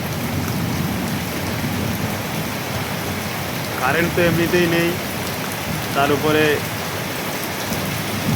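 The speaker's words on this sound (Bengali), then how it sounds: "ঘরের বাইরে বেরোনো সম্ভব নয় এইরকম বজ্র বিদ্যুৎ যেখানে সেখানে পড়ছে।" Heavy rain pours steadily through a night thunderstorm, a loud wash of sound, while a person speaks briefly in two short bursts over it.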